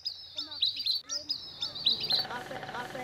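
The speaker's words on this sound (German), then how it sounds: "Während die Kinder im Nest auf dem Waldboden die Vögel studieren, pfeifen diese über den Köpfen der Kleinen." Wild birds chirp and whistle overhead in a forest where children study them from a nest on the forest floor, several overlapping calls repeating in quick phrases, with faint voices and a rustling, busier background joining near the end.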